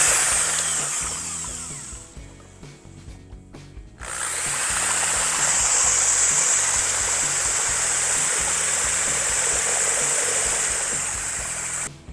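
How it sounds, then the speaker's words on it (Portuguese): Homemade water pump driven by a power drill at half speed shoots water into a bucket, a loud steady rushing spray beginning abruptly after a quieter stretch of drill whir and continuing close up to the end. "Vou tentar jogar água dentro do próprio balde aqui"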